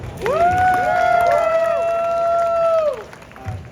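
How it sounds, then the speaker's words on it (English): A convention panel crowd for Star Wars: The Clone Wars cheers with loud whoops and tonal shouts over a bed of clapping, building quickly, holding for a few seconds, then dropping away. "Round of applause, everyone."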